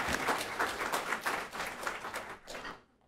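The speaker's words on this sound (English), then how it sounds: "I think we deserve a round of applause for that one" A city council meeting room fills with dense, steady applause from many hands for about three seconds before it quickly dies away at the end; no speech over it.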